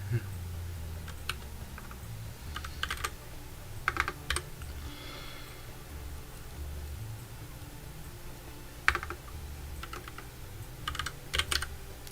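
Computer keyboard typing in scattered bursts of quick clicks, close and crisp over a low steady background hum, with pauses between flurries.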